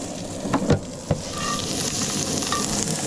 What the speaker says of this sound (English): My asparagus. Get them sizzling.